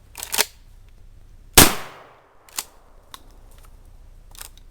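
A Stevens tactical shotgun fires outdoors in loud, close blasts, with one heavy boom trailing into echo and a few sharper cracks before and after it.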